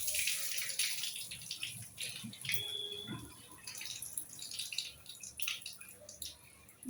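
Thin flattened rice (aval) is rinsed in a bowl of water, giving soft splashes, drips and sloshing that recur unevenly throughout, fairly quiet and with no talking.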